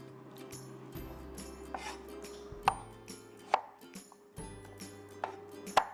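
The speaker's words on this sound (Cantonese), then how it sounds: "將所有嘅蒜頭拍扁，根部嘅位切走" Knife work on garlic cloves on a cutting board: several sharp, sparse knocks and smacks of a blade crushing and chopping, fairly close, with faint clatter between and no talk.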